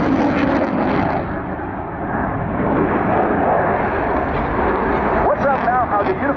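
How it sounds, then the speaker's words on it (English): A Eurofighter jet swoops down during the RIAT 2014 air show, a loud, sustained roaring rush of engine noise that swells and holds throughout, with a faint changing whine toward the end. "The aircraft disappeared just for 1 second in the cloud, and now literally swooping down."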